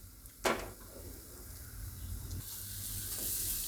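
Chutney sizzling in hot oil as it is stirred, with a soft steady frying hiss, a sharp knock of the utensil near the start and quiet scraping, all at close range without talk.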